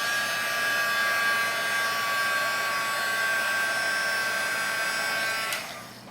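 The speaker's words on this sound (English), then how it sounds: "I'm actually even going to heat set it just a little bit." A heat gun blows steadily on distress marker watercolor paint to heat set it, a loud continuous whirring hiss that holds level for several seconds, then drops sharply as it switches off.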